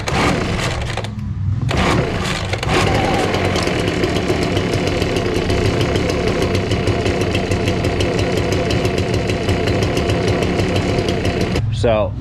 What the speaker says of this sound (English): you can tell that the carb's still gummed up because it's spitting more when it's not on choke